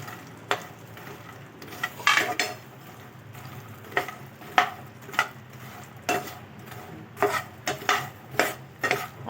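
Masala makhana being stirred in a pan over medium heat, with repeated sharp scrapes and clinks of a spoon against the pan over a soft sizzle, in an irregular rhythm.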